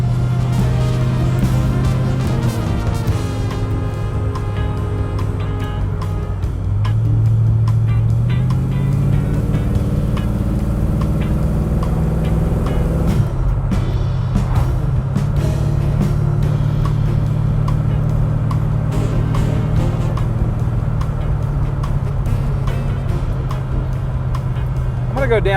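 Ford car with a 350 transmission driving steadily, engine drone holding and then stepping down in pitch as gears change, a continuous close-up cabin rumble with occasional talk.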